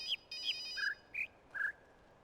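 Phone-like ringing chimes in the video game The Witness, five short electronic tones in an uneven pattern of higher then lower pitches, soft and clean against a quiet background.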